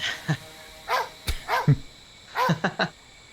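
A pup barks several times in short, sharp bursts spread over a few seconds, fairly close and clear with no talking over it.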